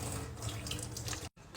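Water runs steadily from a kitchen sink faucet while tofu is being prepared, a close, continuous splashing stream that cuts out briefly near the end before flowing again.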